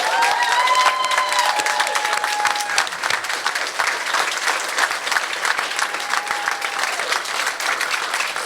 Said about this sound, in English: Please help me give them a huge round of applause.